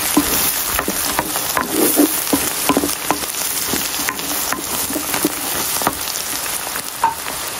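Chopped celery frying in a pan gives a steady, close crackling sizzle, with scattered sharp pops and occasional stirring scrapes throughout, no voices.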